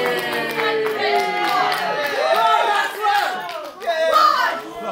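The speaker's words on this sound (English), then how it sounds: "Crowd getting on Maxwell, showing what they think of hard man down." Wrestling event crowd jeering and shouting at a wrestler, a loud, rolling roar of many voices rising and falling with scattered claps.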